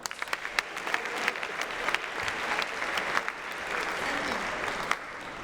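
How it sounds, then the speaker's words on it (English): Audience applause for Jackie Winden at a student-athlete leadership summit, a sustained crowd clapping at moderate level with sharper individual claps standing out throughout. "Let's give her a round of applause."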